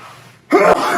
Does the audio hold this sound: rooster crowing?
no